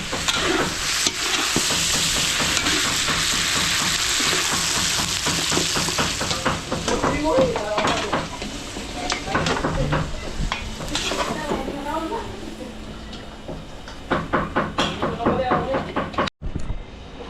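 Pork fried in a pan in a restaurant kitchen crackles and sizzles steadily, with utensils scraping and stirring through it and a brief clatter near the end.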